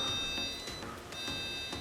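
A Beko RCNA366E40ZXB refrigerator's alarm sounds as a thin, high electronic tone that comes in two separate stretches with a short gap between them. It is faint and heard over quiet kitchen room noise.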